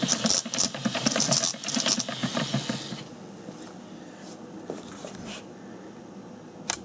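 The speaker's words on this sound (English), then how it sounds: "You'll actually start to see it spark there." A hand-cranked Wimshurst machine sparks across its brushes, giving a dense, rapid crackling rattle for about three seconds. Quieter background follows, broken by a few faint snaps.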